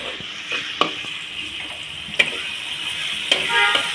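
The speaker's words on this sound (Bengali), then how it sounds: "পেঁয়াজটা আমি বাদামি কালার করে ভেজে নেব।" Onions fry in a pan toward a brown colour for a catfish curry, a steady close sizzle punctuated by three or four sharp spatula clicks and stirring scrapes, with no talk.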